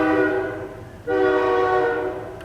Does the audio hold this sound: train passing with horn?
yes